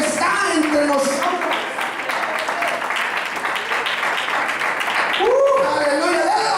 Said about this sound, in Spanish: dale un aplauso más fuerte al Señor